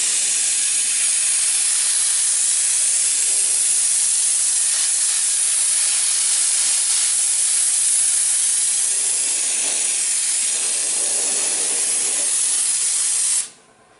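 An undercoating spray gun blasts used oil in a loud, steady hiss under a stock or cattle trailer, running without a break for about fourteen seconds before it cuts off abruptly.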